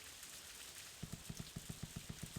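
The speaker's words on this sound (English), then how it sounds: "The sound of raindrops is comforting, isn't it?" Rain falls in the video game Harvest Moon: A Wonderful Life as a faint, steady hiss, joined after a second by a regular run of soft, evenly spaced taps.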